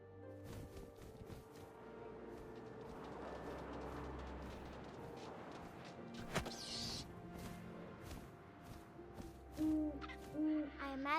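An owl in What Remains of Edith Finch gives a run of soft, close hoots that repeat over a low wind-like ambience and quiet game music, growing more distinct near the end.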